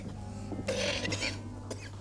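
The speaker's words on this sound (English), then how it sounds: "I would see a doctor about that cough." A man gives a couple of short, rough coughs in a horror film scene, heard close and fairly loud over a low background hum.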